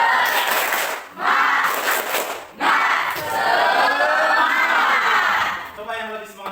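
A group of people does a rhythmic tepuk semangat spirit clap, loud bursts of clapping mixed with unison shouted chanting in several phrases separated by short pauses.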